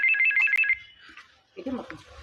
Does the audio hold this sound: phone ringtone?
yes